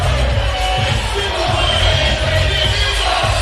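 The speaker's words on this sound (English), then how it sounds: "Oh, and listen to this crowd. Got the chants are coming now." An MMA event crowd roars after a fight, a thick wall of cheering with rhythmic chanting pulses underneath, loud and continuous.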